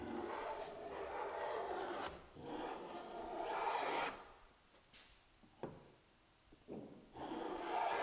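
A hand plane strokes across a walnut board, giving long, soft rasping swishes in repeated passes, with a few shorter scrapes and brief pauses between them, fairly close and moderate in level.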